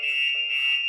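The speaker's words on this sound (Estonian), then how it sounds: "kui see liigub, siis hakkab autoalarm käima" A Starline motion-sensor alarm fitted under a scooter's seat sounds when the scooter is moved, a loud, steady piercing electronic tone held without a break, close by and alone.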